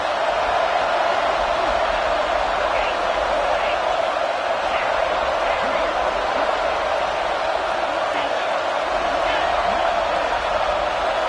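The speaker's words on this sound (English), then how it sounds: "this home crowd is fired up and ready to make a difference today" A home crowd roars at a college football game against Baylor, a dense, steady wash of cheering and noise from a large stadium, continuous and loud from start to finish.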